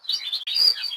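A Norwich canary chirps up close: two loud, bright, high tweets in quick succession, with nothing else around them.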